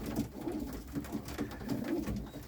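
Pigeons cooing close by at a country dacha where sheep are also kept, several overlapping low rolling coos repeating steadily without pause.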